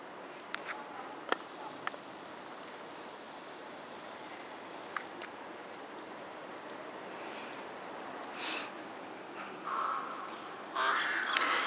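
Crows caw in a small flock outdoors, sharp scattered calls rising over steady background hiss and distant noise, with a louder burst of cawing near the end.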